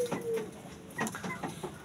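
Bird calls from a dove breeding coop holding a male pigeon, likely among other doves: brief, soft, scattered chirps and coos over low background noise, with no talk.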